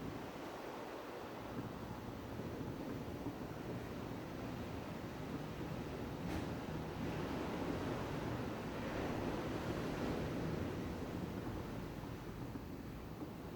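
Ocean waves wash in a continuous broad roar with gentle swells and a breathy wind-like hiss, steady and moderately distant, no voices.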